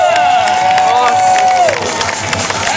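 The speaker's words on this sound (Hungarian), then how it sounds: "Természetesen mehet a taps és a sikítás, csapjuk zajt az Úristen!" A crowd at a flatland contest final erupts in loud, continuous applause mixed with screams and cheering, with a sustained whistle or shriek early on and scattered sharp claps throughout.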